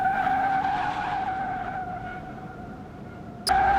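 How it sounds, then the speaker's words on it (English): A car in Car Mechanic Simulator 2021 roasting its tires and sliding sideways, producing a sustained loud tonal squeal that wavers and fades slightly before a sharp renewed screech near the end. "Roasting tires, woo, and getting sideways."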